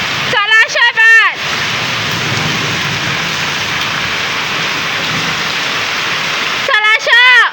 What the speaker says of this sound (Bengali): না না আমি ভিজে যাবো, বৃষ্টি বেশি হচ্ছে